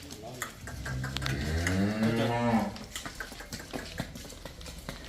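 A pure Jersey cow from Punjab on a dairy farm gives one long, deep moo nearby, with people talking before and after it.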